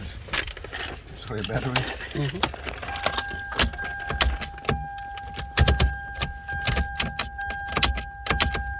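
A key rattles and jangles as it is pushed into the shifter release slot of a Toyota Sienna and worked back and forth, with sharp metallic clicks inside a car and someone talking over it.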